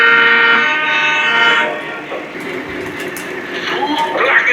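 A GP35 diesel locomotive sounds its horn as the train runs, a bright multi-tone blast fading into rolling rail noise and clatter, with a voice speaking over it during a Halloween run.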